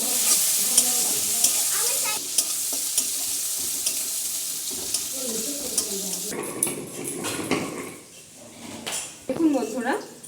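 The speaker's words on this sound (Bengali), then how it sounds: "এবার আমি চিংড়িগুলো হালকা করে ভেজে নেব।" Prawns frying lightly in a pan in a home kitchen, a steady sizzle broken by repeated scrapes and clinks of a spatula stirring against metal, close and fairly loud.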